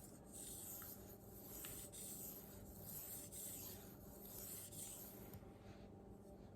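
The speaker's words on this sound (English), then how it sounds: "Gonna do some edge or scratch aligning here. Really refine that burr down." A Tojiro DP santoku knife edge is stroked across a Naniwa Pro/Chosera whetstone to refine the burr, giving soft, steady rhythmic scraping and rubbing strokes, close and fairly quiet, with no voices.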